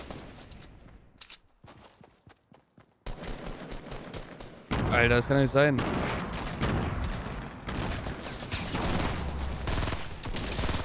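Gunfire in a Fortnite Battle Royale match, starting with quiet sparse shots and then erupting into loud rapid bursts of automatic fire and impacts, with players talking over the action.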